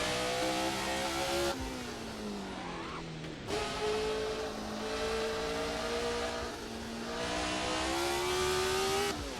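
Race car engine in a racing video game, a loud sustained mechanical drone that rises in pitch, drops sharply at two gear shifts, then climbs again, continuous and close throughout.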